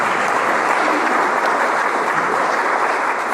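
Club members at a Rotary Club meeting give a round of applause, a dense, loud burst of clapping that holds steady throughout.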